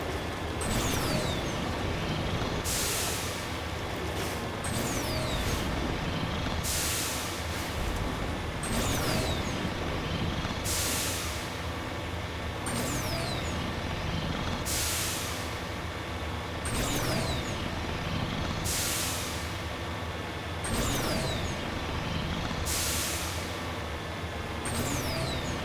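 Vehicle driving in Mass Effect Legendary Edition, a loud continuous engine and rolling rumble with regular surging hiss-like bursts every couple of seconds, with no talk.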